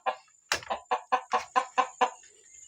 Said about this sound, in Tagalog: Nasa kwarto pa, yung manok.